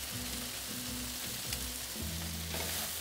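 Peppers sizzle steadily in a skillet with potatoes, a dense, even frying hiss close up and alone, broken by a few soft stirring shuffles.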